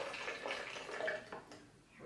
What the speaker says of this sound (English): I'm going to drain out all the extra water from the seeds I've soaked